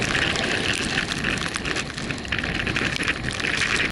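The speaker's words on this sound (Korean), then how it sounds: "급기야는 우박이 내리기 시작했습니다." Hail pelting down during a sudden weather change high on Mount Fuji, a dense, steady rattle of countless small impacts close by, continuous and loud for the whole stretch with no voices.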